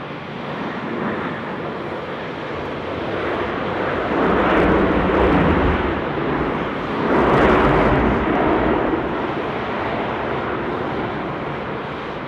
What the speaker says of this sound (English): coming in now, Qantas 424. It's the 738 on the milk run